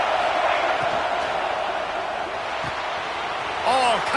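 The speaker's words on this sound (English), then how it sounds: "This Auburn crowd trying to conjure up a little magic here on 3rd down." An Auburn home crowd roaring in a college football video game against Florida, a loud, sustained wall of crowd noise with scattered whoops and a commentator's voice talking over it.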